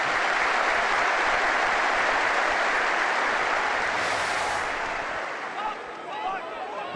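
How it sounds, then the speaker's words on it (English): Stadium crowd applause at New Douglas Park in memory of John Lambie, a broad steady roar of clapping from the stands that gradually thins and fades toward the end. "applause will happen round New Douglas Park in memory of John Lambie, the former Accies manager,"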